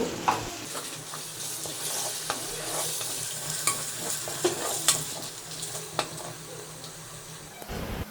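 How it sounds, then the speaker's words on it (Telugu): Masala sizzles and fries in a pan for a fish curry, a soft continuous crackle with scattered stirring scrapes and clinks of a spoon against the pan. "మసాలాని పచ్చివాసన పోయే వరకు వేయించుకోవాలి"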